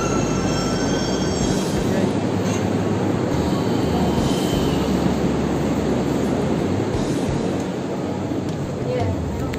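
A metro train arriving at Hacı Osman station rumbles loudly and steadily throughout, with faint wheel squeal and a constant broadband roar, like standing on a station platform.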